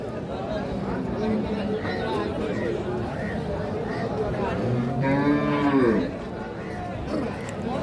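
A Sahiwal Sindhi cow with her calf at a cattle market moos once, loud and drawn out, over steady crowd chatter and nearby conversation.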